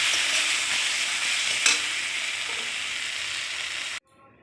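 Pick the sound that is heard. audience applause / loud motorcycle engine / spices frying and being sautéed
spices frying and being sautéed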